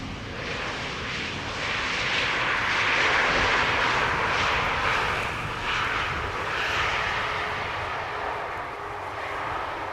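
An airliner passes near Amsterdam Schiphol Airport, likely an Embraer arriving from Dublin, a loud, broad jet-engine roar that swells and holds steady for the whole stretch, with no talking.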